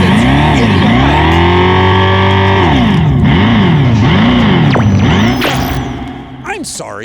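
A loud synthetic engine hum from a Dodge Charger Daytona EV electric car, rising and falling in pitch through repeated revving sweeps, with voices talking over it near the end.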